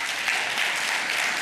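Senators in the French Parliament applaud during a presidential address on the state of the nation, a steady, dense burst of clapping from a large hall.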